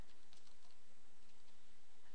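Quiet, rapid typing on a computer keyboard, soft clicking keystrokes pattering steadily and close by over a low, constant hum.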